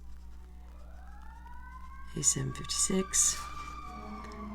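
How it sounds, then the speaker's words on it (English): A siren wails in the distance, rising and holding a long tone, while a person speaks briefly over it up close. "I don't know if you could hear the sirens going by."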